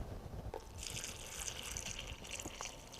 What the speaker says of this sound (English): Then I can go back and add water.